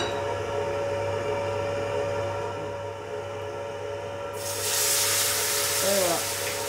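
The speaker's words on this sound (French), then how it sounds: "Là, on déglace au porto" Port wine poured into a hot pan used for cooking rabbit, a sudden loud broad hiss and sizzle of deglazing bursting in partway through and holding steady, over a constant low hum, with a brief voice near the end.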